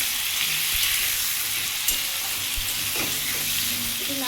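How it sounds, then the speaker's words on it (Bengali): Potatoes and tomatoes fry in a pan with a steady, loud broadband sizzle, broken by a few faint clinks and scrapes of stirring. "আলুটা আর টমেটোটা ভালো করে ভেজে নেবো"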